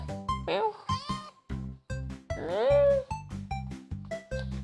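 A cat meowing repeatedly, several drawn-out meows including one long rising and falling cry, over a rhythmic looping music beat.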